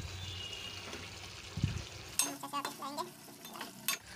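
A spoon stirs mutton cooking in a pan, with a short scrape near the start, then a louder burst of clattering stirring strokes and sizzling over about two seconds before settling.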